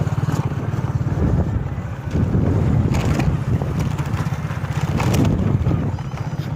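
A motorbike rides onto a state highway, its engine giving a steady low drone under strong rushing wind noise that stays loud and continuous throughout.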